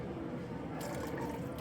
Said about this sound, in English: Splash of apple cider.